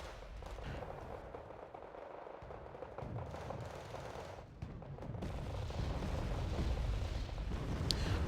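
Artillery strikes pounding infantry positions in the wartime strategy game Wargame Red Dragon, heard as a continuous, dense rumble of distant blasts that builds steadily louder toward the end.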